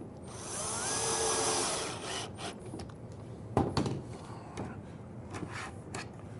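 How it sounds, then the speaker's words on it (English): Screws being driven with a power drill into a wooden drawer slide while refitting old vinyl-covered kitchen cupboards: a steady whirring drive for about two seconds, then short sharp bursts and clicks, close and moderately loud with no talk. "We're going to go ahead and put 2 screws in the slide."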